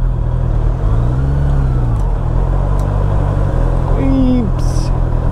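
A Honda car drives through Berlin streets, its engine a steady low hum in the cabin with road rumble, broken by a couple of brief whines as it moves along, with no one talking.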